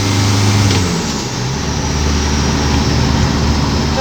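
A Ford Fairlane 500 engine drones loudly as the car drives, a steady low rumble with a brief dip and shift in pitch early on, engine noise filling the scene.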